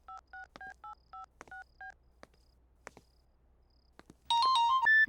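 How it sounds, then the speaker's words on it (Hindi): Dialing a phone call: a quick series of about ten crisp keypad tones in a steady rhythm, then scattered quiet clicks, and finally a louder ringing tone near the end. "सिमरन को फोन करता हूँ।"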